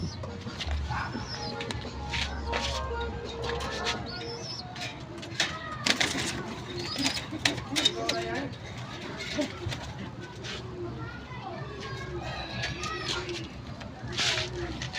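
Blue bar white top pigeons coo softly in a loft, with low murmuring calls and occasional wing flutters under a voice talking throughout.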